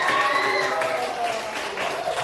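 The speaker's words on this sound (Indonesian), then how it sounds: "Tepuk tangan buat kelompok 1." A class claps for a group of students in a school lesson. The applause is steady and fairly loud throughout, mixed with voices and cheering from the room.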